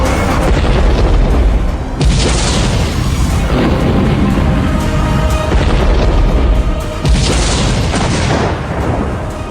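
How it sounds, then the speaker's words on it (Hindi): Sarang artillery gun, a large towed field cannon able to fire three shells in one go, booming repeatedly with heavy, loud, rumbling blasts that roll into one another over a continuous roar. "एक बार में 3 गोले दागने में सक्षम है।"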